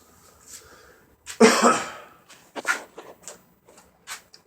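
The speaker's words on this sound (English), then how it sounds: "Sorry, I got like a little stuffy cough" One harsh, chesty cough bursts out up close, followed by several smaller coughs and throat-clearing sounds.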